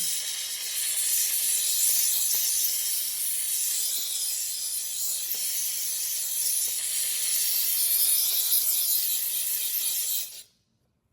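Steam cleaner blasting built-up dirt off the top of an ATV oil tank, a loud, steady, close hiss that runs continuously for about ten seconds and then cuts off abruptly.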